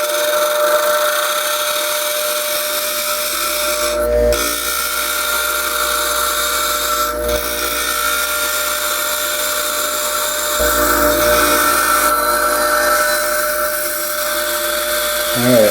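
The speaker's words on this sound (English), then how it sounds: "This is all just on the bench grinder." A bench grinder shapes a brass guitar nut, giving a loud continuous high whine throughout with brief changes in pitch as the metal is pressed against the wheel.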